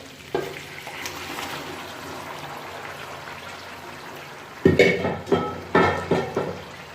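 Green chilies fry in a pan while gosht is cooked, a soft steady sizzle through the first seconds, then louder bursts of clattering and stirring as something is tipped in and moved around.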